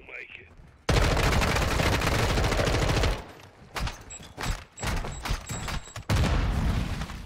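A light machine gun in Modern Warfare 2 fires long, loud sustained bursts, close up, broken by brief pauses and scattered shots, with some game sounds between bursts.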